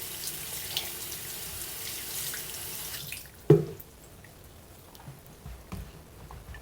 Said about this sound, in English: Rinse again under the faucet.